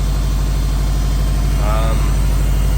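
A Subaru STI with a fresh CSF radiator and Perrin front-mount intercooler setup runs steadily close by, a loud, constant low engine drone with no breaks or revving.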